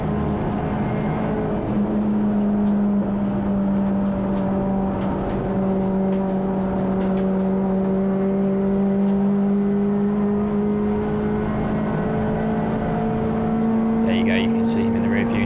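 Touring car engine at racing speed during a CSCC Tin Tops race at Thruxton, a loud steady drone with slowly rising and falling pitch as the car is driven hard, running throughout close to the microphone.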